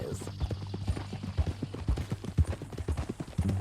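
Horse hooves clip-clop at a steady walking pace in Red Dead Redemption 2, with each footfall distinct and close against a low ambient hum and brief murmurs of speech.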